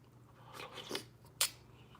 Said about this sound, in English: chew your oyster